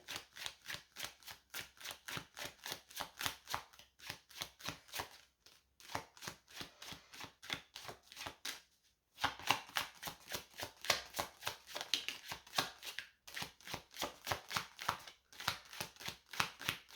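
Playing cards are shuffled and drawn in a card reading, giving rapid, crisp riffling flicks in steady bursts with short pauses between runs, close and fairly quiet with no talking.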